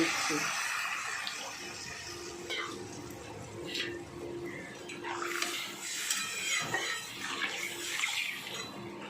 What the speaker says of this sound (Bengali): আমি এবার পনেরো মতো জল দিয়ে